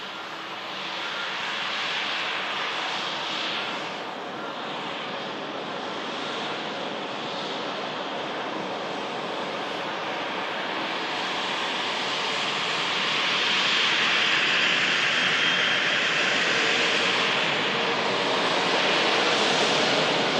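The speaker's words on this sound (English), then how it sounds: "Le Air France Hop coming in from Paris Charles de Gaulle." Air France Hop airliner arriving from Paris Charles de Gaulle: a steady distant roar of jet engines with broad rushing noise, building gradually louder over about twenty seconds with no talk.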